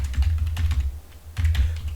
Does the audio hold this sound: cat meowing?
no